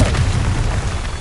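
A Confringo blasting spell in the Hogwarts Legacy game bursts as a dense, loud, booming explosion that fills the whole brief moment.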